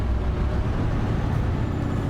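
Car engine on a long road drive heard from inside the cabin, a loud continuous drone of engine and road noise as the car pulls hard in second gear, steady and unbroken.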